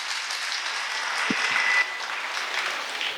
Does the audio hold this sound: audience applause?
yes